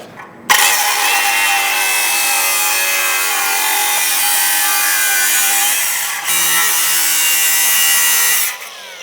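An angle grinder cuts through metal on a car during a brake upgrade, starting abruptly with a loud, steady high whine and dipping briefly once before cutting off near the end; no talk over it.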